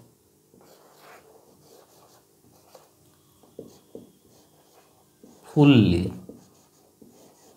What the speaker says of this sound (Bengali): তো চলো আমরা কয়েকটা সেন্টেন্স একটু লিখি।